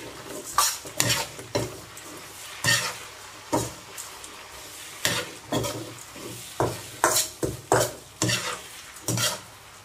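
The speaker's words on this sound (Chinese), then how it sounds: "倒进来，把它炒匀。" Spicy squid tentacles stir-fry in a hot wok, with repeated sharp scraping clatters of the spatula in an irregular rhythm over a steady sizzle, close and loud with no talking.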